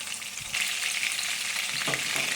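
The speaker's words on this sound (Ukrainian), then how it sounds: "Я трішки обсмажую одну сторону і трішки іншу." Chicken cutlets sizzle steadily in a frying pan, a loud continuous crackle that swells after a brief quieter start, with a soft clunk near the end as a piece is turned.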